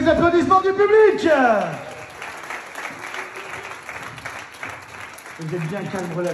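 Audience applause at a partners' evening event, a dense, steady clapping from a crowd lasting several seconds after a voice, with speech resuming over it at the end.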